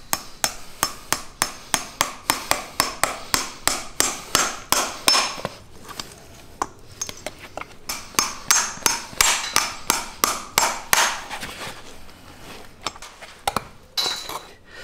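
Steady hammer blows drive nails through a horseshoe into a hoof while a horse is shod with a comfort pad, about thirty sharp metallic strikes in quick regular runs with brief pauses, loud and close, no talking.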